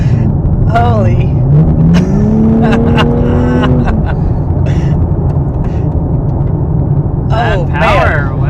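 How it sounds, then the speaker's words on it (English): A 2023 Nissan Z Sport with a 400-horsepower engine accelerates hard, its engine note climbing steadily and then holding high, loud from inside the car, while someone exclaims over it. "you know you have 400 horsepower, but it surprises you when you put your foot down still"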